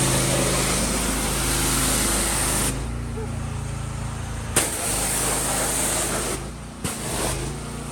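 Motorcycle engine fitted with an aftermarket exhaust, running steadily with a low droning rumble throughout, briefly dipping then continuing, with a couple of sharp knocks over the idle; no speech.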